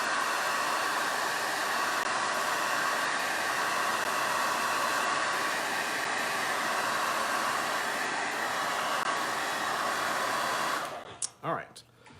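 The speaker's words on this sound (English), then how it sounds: "Now I'm going to use my hair dryer just for speed's sake." A hair dryer blows steadily to dry paint on a paper mug craft, a loud, constant close whoosh with a faint whine that cuts off near the end, followed by a few brief knocks.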